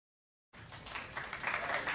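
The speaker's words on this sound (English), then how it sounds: "Let's give a round for Robert." An audience at an Arizona FIRST Tech Challenge robotics kickoff breaks into applause after a moment of silence, a dense wash of clapping that swells and holds steady.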